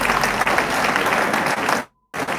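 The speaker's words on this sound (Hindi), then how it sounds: "एक बार जोरदार इनके लिए भी तालियां बजाएं।" Loud, thick applause from a crowd at a college event, continuous and close for nearly two seconds before cutting off abruptly into silence, then briefly resuming.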